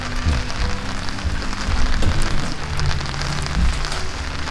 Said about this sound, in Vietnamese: Có mưa.